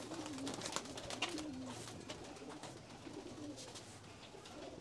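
Golden Deobandi pigeons coo in repeated low, rolling calls, several overlapping phrases at moderate distance with no talking.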